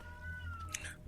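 A house cat lets out a faint, thin meow in the background during a tabletop game session, one long wavering tone followed by a brief higher squeak, soft and distant over low hum.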